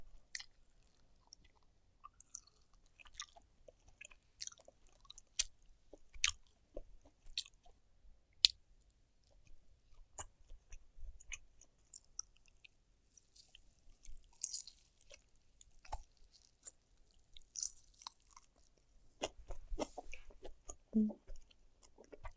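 Close, quiet chewing and biting while eating grilled pork back ribs and sandfish, irregular soft crunches and wet smacks scattered across the whole stretch with no talk.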